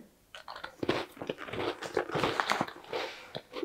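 Crunchy almond biscuit bitten and chewed close up, several crisp crackling crunches in an irregular run over a few seconds.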